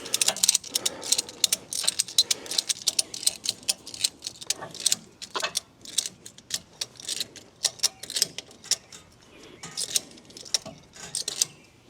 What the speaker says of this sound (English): It's got ratchets on both sides.